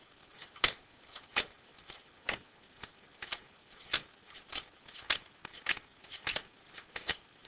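A deck of playing cards is handled in a steady series of crisp snapping riffles and flicks, close and distinct in a quiet room with no talking.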